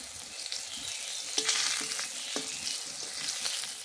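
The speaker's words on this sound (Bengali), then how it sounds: "লঙ্কাটা বেশ তেলের সঙ্গে ভাজা হয়ে যাবে" Green chilli and coriander leaves fry in hot oil in a kadai for a steady, close sizzle, with a few sharp spatula clicks and scrapes against the pan partway through.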